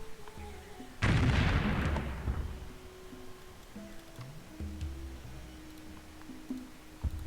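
Artillery bombardment in the World War II era strategy game Civilization III: one heavy booming blast that rolls and decays over a second or so, followed by quieter clicks and low rumbling.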